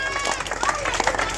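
Crowd at a cycling stage finish applauds the stage winner, a world champion, on the podium at la Mirade; steady dense clapping and cheering under continuous voices.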